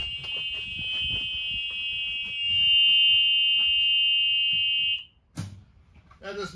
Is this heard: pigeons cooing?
no